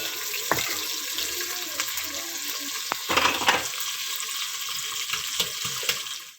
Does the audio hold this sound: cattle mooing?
no